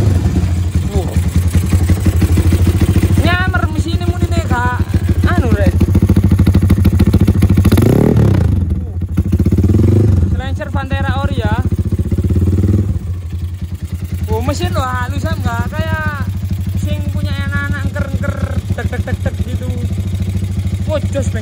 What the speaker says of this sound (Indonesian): Suara mesinnya standar Mas kayak sepeda wow